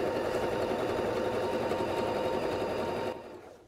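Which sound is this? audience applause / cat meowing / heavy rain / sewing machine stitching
sewing machine stitching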